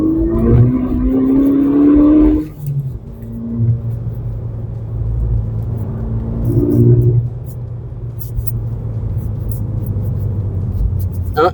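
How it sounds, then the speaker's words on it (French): A Volkswagen Golf 6 GTI Edition 35 engine revs hard and climbs in pitch, then shifts and keeps pulling as a steady in-cabin rumble with a second surge later, voices talking over it. "Allez, on va faire une petite accélération."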